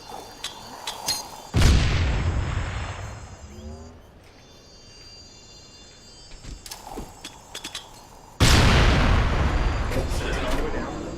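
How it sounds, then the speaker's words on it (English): A landmine shot and detonated in a shooter video game: two heavy, sudden blasts a few seconds apart, each trailing off into a rumbling decay, with quieter game noise between them. "let me shoot the landmine real quick"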